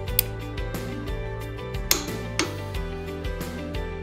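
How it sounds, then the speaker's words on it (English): A HYTORC clicker torque wrench gives a few sharp, isolated clicks, one near the start and two more later, over steady background music. "An audible click and tactile feedback indicates torque has been reached."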